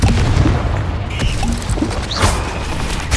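The Confringo fire-explosion spell goes off in the video game Hogwarts Legacy, a loud booming blast with crackling, mechanical debris and sharp impacts over a heavy low rumble, in quick succession.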